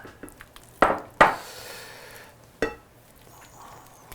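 Mixture being stirred into a dough in a bowl, giving a few sharp clinks and scrapes of spoon against bowl close up, with quiet gaps between them and no talk.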